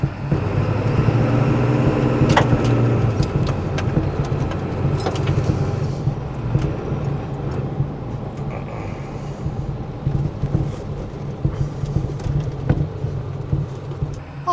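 1996 Ford F-250 XLT 4x4 with a 7.3 diesel and automatic transmission, heard from inside the cab on a test drive: a continuous low engine drone and road rumble with scattered clicks and knocks, no talk.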